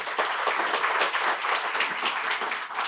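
A roomful of people applauding loudly at a university inauguration ceremony for a centre for financial literacy, a thick continuous clapping that stays strong and even from start to finish.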